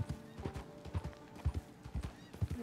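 Horse hooves clip-clop in a steady trotting rhythm with a brief neigh in the Red Dead Redemption 2 video game, fairly close and moderately loud, with no talk.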